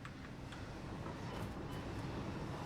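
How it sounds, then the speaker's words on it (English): Train in the Satisfactory video game, a steady low rumbling roll of rail travel with faint rhythmic clicks on top, continuous and moderately distant, no speech. "My train!"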